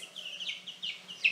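Newly hatched baby chicks, hatched by a mother hen, peep in quick, high, thin chirps, a run of short calls close by and fairly soft.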